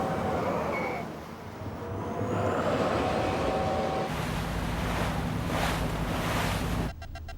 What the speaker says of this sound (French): C'est bon, j'inverse les moteurs maintenant.